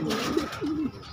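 Pigeons cooing close by at a bird market, a pair of soft, low, rolling coos with no talk over them.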